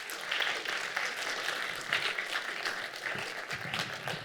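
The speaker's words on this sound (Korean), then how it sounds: "여러분 크리테오 박대경님에게 큰 박수 한번 부탁드리겠습니다" Audience applauding a Criteo guest at a staged talk event, a steady wash of many hands clapping at moderate level for several seconds, with no talk over it.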